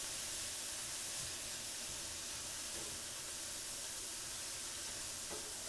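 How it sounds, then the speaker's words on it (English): Mushrooms sautéing in a pan give a steady, soft sizzle and hiss that holds evenly throughout, with no talking. "A little longer saute for the mushrooms."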